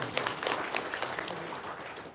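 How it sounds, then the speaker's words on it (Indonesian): A crowd of women at an Indonesian gathering applauds together, a dense, lively patter of hands that swells and then gradually fades. "Tepuk tangan dong."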